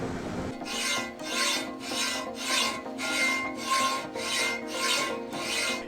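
A hacksaw cuts through steel angle iron clamped in a vise, with steady rhythmic rasping strokes, about eight back-and-forth passes, loud and close with no talking.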